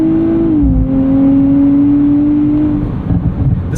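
A 2024 Nissan Z Nismo's engine holds a loud, steady tone as the car accelerates, with a brief shift-like dip in pitch early on before it pulls on smoothly and the note fades near the end.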